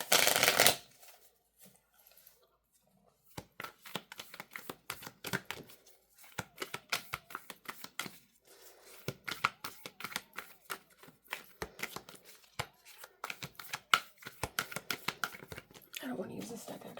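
Tarot card deck being shuffled by hand, a long run of quick crisp riffling and slapping bursts with short pauses between, close and fairly quiet, after a brief loud rustle at the start.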